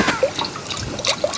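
Homemade grape wine poured from a vessel: a short, close trickle and splash of liquid with small gurgling drips, lasting about a second.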